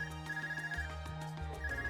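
A phone rings in the Trails of Cold Steel video game, with a repeating electronic ringtone in evenly spaced bursts over a low, sustained tone.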